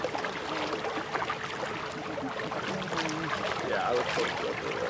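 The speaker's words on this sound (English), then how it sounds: "Do you not like the sound of the water?" Water lapping and moving near the Baltimore bridge collapse site, a steady washing texture close by with faint voices and background noise.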